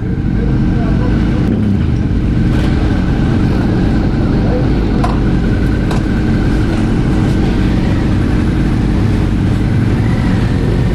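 A group of motorcycles, including Suzuki V-Stroms, roars along as a steady, loud engine drone with wind rush, faint voices buried beneath the continuous noise.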